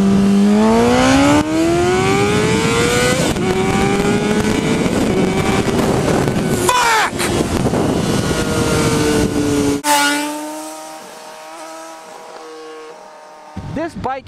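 A 2012 Honda CBR1000RR sport motorcycle accelerates hard close by, its engine pitch climbing steadily through the revs before an upshift and a further rise, loud and dominant over wind noise.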